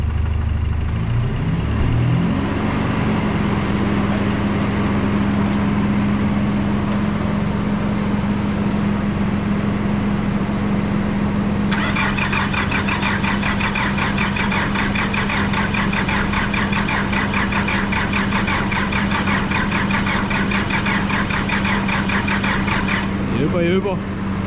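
A Nissan Pathfinder engine cranks and whirs steadily for a long stretch without catching, loud and close, with a faster rattling tone joining partway through and people talking over it.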